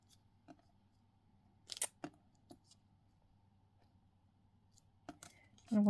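Scissors snip part of a stamp during card making, giving a few quiet, separate crisp cuts and clicks against a faint hum, with a louder rustle of handling at the end.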